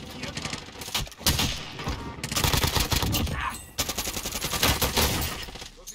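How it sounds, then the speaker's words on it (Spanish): Rapid automatic gunfire in the video game Warzone, dense bursts of shots crackling in close succession with brief pauses between volleys, loud and near, with players' voices faintly underneath. "Los disparos."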